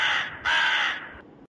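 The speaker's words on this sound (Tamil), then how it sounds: "இளவெடுத்த காக்கா வேற ஒரு பக்கம் காதுக்குள்ளே வந்து கரைஞ்சிக்கிட்டு கிடக்கம்மா" A crow caws twice in quick succession, close and loud, harsh drawn-out calls with a brief gap between them and nothing else heard.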